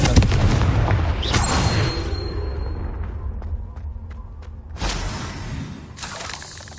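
Confringo blasting spells in the Hogwarts Legacy video game, a run of booming blasts with shattering crackle: a loud burst at the start, another near 1.5 seconds, then two more around 5 and 6 seconds over a low rumbling game bed.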